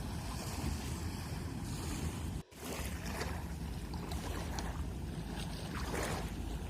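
Gentle sea waves wash in a steady, continuous hush, with light wind and a brief dropout partway through.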